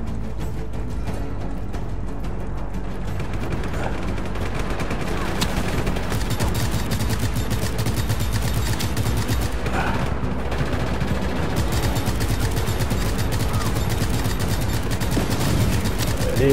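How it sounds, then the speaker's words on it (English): Dense, continuous video game gunfire and explosions in Just Cause 3, loud and unbroken, with rapid shots layered over heavy booms throughout. "Yep, explosions, death and destruction."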